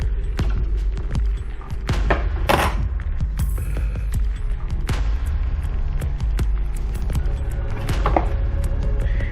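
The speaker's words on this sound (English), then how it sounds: "that is what we're gonna attempt to cut off using our X-Acto knife" An X-Acto knife cuts through foam squares in a quick irregular series of close, dry taps and scrapes over a low background hum.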